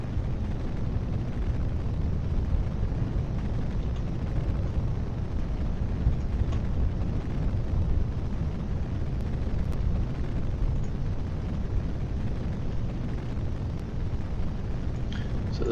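A video game rocket engine burning during launch, heard as a steady, loud, dense low roar that holds unchanged throughout with no breaks.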